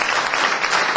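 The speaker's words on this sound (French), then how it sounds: "on va les applaudir très fort tous les 5" A burst of clapping from an audience, loud and sustained for the whole moment, with no voices over it.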